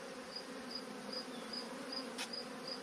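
Honey bees buzzing steadily around an open Freedom Hive during a split upgrade to a ten-frame nuc, a continuous close insect drone with faint repeated high tones and one brief sharp noise.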